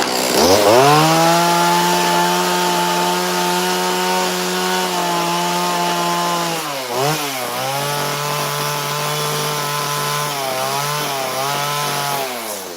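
A chainsaw carving a wooden Bigfoot runs loud and close at a steady high idle-to-cut drone, dips briefly around the middle as the revs change, then holds steady again with small wavering pitch shifts.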